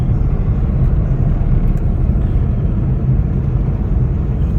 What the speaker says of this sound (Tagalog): Sa ayos, Skyway traffic.